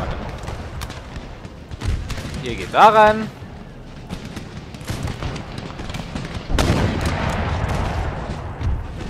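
Cannon and musket fire in the Empire: Total War video game, where sharp booms and crackling volleys burst out under steady German talk, with a heavy blast partway through.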